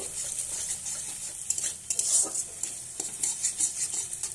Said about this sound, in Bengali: তো ডিমটা এবার আমি দিয়ে দেব। তেল গরম হয়ে গেছে।